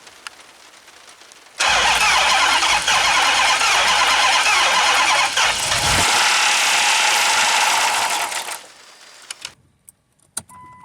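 A Hemi Magnum's engine cranks briefly, then catches and roars loudly, holding a strong revving idle for several seconds before cutting off, with a few faint clicks afterward.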